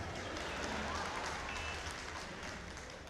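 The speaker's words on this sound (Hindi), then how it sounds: "4-5 लोग और तालियां बजा दें तो काम चल जाएगा" Applause from the audience at a Hindi kavi sammelan poetry gathering at Lucknow Mahotsav, a steady wash of clapping from a large crowd heard at a distance, fairly faint and even throughout.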